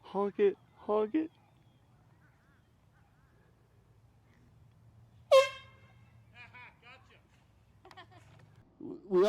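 An air horn is blown outdoors on a golf course, giving a loud, sharp blast midway that stands clear of the quiet background, with people talking before and after it.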